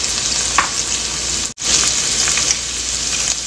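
Beef and tomato stir-fry sizzles steadily in a hot pan, a continuous bright frying hiss with a brief clatter of stirring and a momentary dropout midway, no voices.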